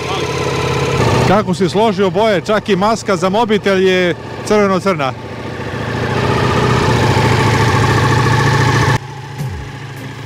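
An old motorcycle idles steadily nearby while someone talks over it, the engine continuing alone after he stops.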